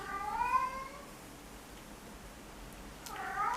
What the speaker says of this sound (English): Would you just be quiet, you stupid cat?